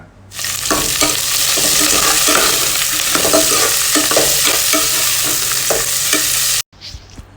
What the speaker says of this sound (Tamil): ஒரு 4 பச்சை மிளகா போட்டு நல்லா கிண்டி விடுங்க.